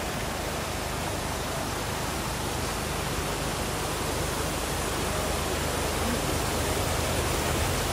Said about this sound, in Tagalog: ang lakas ng agos ng tubig. Galing sa taas. Walang tigil.